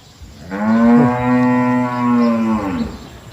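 A cow moos loudly and close by in a wide rural garden pasture in Surin, Thailand, near dusk: one long, drawn-out low call with a slight break in the middle, heard alone against quiet countryside.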